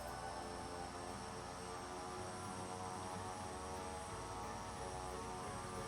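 A helicopter in Microsoft Flight Simulator 2024 drones with a steady, dense engine and rotor roar, constant and unbroken throughout, with no talk over it.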